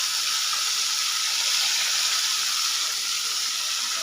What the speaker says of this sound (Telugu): వెల్లుల్లి పేస్ట్ వేసేసాను. ఇప్పుడు ఇలా ఫ్రై అయ్యాక